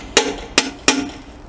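Three sharp hammer blows strike a rivet on the rear lamp area of a Scania R 450 truck, evenly spaced and close by, each ringing briefly before fading, with no talk.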